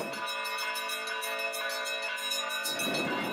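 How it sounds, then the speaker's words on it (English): A church bell in Castellammare del Golfo, Sicily, rings loudly with a rich, sustained metallic tone, its overtones humming steadily before the ringing shifts near the end. "Busiest man on the planet ringing that bell."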